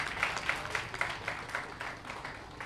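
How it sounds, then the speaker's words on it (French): A crowd claps at a Labour Day celebration in honour of the President of the Republic, with steady, moderately distant applause and scattered individual claps standing out in a rough rhythm. "acclamés pour le président de la République"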